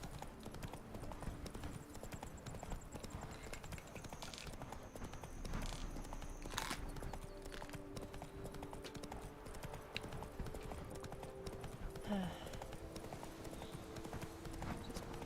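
The horse Roach trots in The Witcher III: Wild Hunt, a steady, continuous clip-clop of hoofbeats over a low outdoor ambience, with no one talking.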